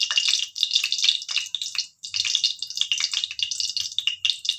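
Water hits a hot pan of roasted nut and sugar powder in ghee, giving a loud, close hissing sizzle in bursts with one brief break partway through.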